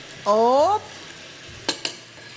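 Onion and garlic frying in a pan while being stirred, a soft steady sizzle with a couple of sharp utensil clicks against the pan near the end.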